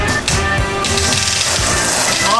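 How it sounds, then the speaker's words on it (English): A Decent Espresso machine with a newly replaced pump powers on, giving a steady mechanical hum and buzzing with ratcheting clicks and low rhythmic pulses, loud and continuous throughout. "Power cable and in and turn the machine on."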